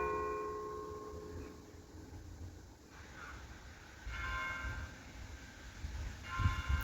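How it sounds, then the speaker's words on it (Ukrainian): Faint, distant church bells chime over quiet outdoor ambience in a Dutch village, with a few soft tolls rising out of a low rumble. "І ще десь там дзвонять."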